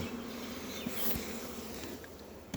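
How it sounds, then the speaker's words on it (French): Honeybees hum at an open hive during swarm treatment, a dense, steady buzz close by with a few individual bees zipping past. "C'est toi qui écrases les abeilles, c'est pas propre."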